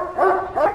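A dog-like roar buff from a Rex dinosaur in the video game Primal Carnage Extinction: two loud, close, barking-roar bursts in quick succession with no talk.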